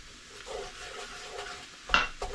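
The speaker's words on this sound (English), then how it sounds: "we need to go ahead and give this a good stir" Vegetables are stirred in a pot, peppers, onions and celery scraped and turned with a spoon, giving soft shuffling sweeps over a faint sizzle, with a sharper clink of the utensil against the pot near the end.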